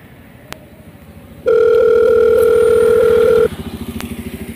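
A single telephone ringback tone sounds loudly and steadily for about two seconds during a phone call, with quieter low background noise before and after.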